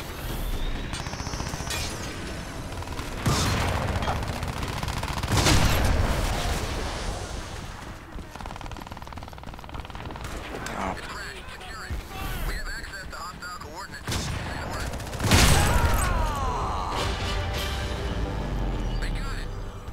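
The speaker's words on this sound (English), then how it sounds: "Look at this thing, it shoots rockets out." A swarmer rocket launcher in Crysis 3 looses its rockets with several heavy blasts and explosive bursts spread across a noisy firefight, while players talk and laugh over the action.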